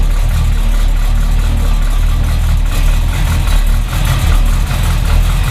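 An old car engine idles loud and close after the choke is pushed off, holding a steady low rumble throughout with a brief dip; no one speaks.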